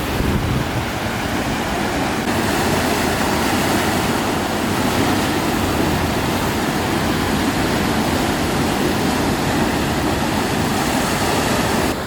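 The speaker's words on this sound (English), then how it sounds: "the waves busy splashing just beneath us" Ocean waves splash against rocks just below a vantage point at Hermanus beach, making a loud, steady, continuous roar of surf with wind noise and no talking.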